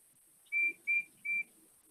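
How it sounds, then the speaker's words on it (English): Three short, clear whistle toots in quick succession, fairly faint and alone, from a small engine whistle. "I thought I heard Percy's whistle."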